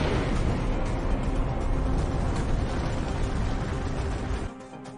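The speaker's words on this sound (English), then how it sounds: "the explosion is far greater" Asteroid impact explosion at about 50,000 miles per hour, a loud sustained roaring blast rumble that holds steady and then drops away abruptly near the end.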